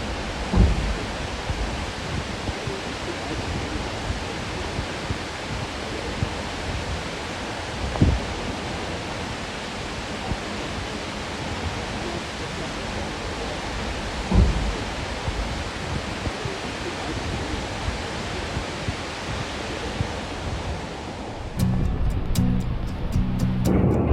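Glacier meltwater waterfall in Alaska pouring off the ice, a steady broadband roar of rushing water that holds constant throughout, with a couple of brief thumps and a harsher, more cluttered burst near the end.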